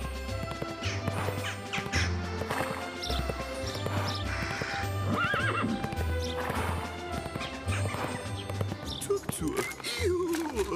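A horse gallops with rhythmic clip-clopping hooves and a neigh, set against busy music and crashing effects in an animated film, with voices speaking over it.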